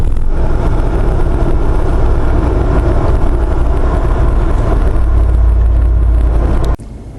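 An LS3 V8-swapped Jeep Wrangler JK accelerates, giving a loud, steady low engine rumble with wind and road noise throughout before it cuts abruptly near the end.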